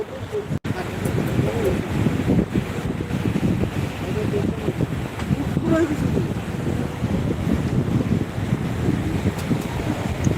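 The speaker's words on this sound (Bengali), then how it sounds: "সমুদ্রটা দেখাবো এখন জোয়ার চলছে জোয়ার শুরু হয়ে গেছে" Sea waves at high tide on New Digha beach in the evening, a constant loud surf roar heavily buffeted by wind noise on the microphone.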